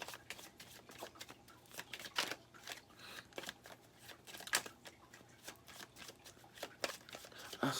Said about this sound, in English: So let me just shuffle this and see if we can find any more information.